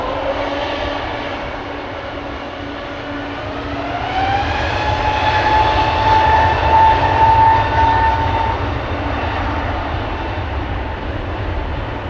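A Qatar Cargo aircraft departs Amsterdam Schiphol Airport, its broad engine roar swelling steadily with a rising whine. It stays loud and sustained, with no talk.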